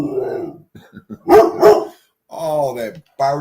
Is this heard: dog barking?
yes